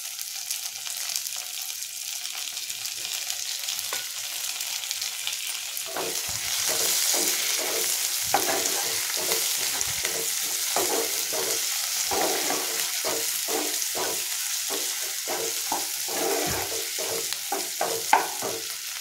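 Chopped tomatoes go into a pan of fried onions while cooking chicken biryani, giving a steady hiss of frying with repeated clicks and scrapes of stirring over roughly twenty seconds, with no talking.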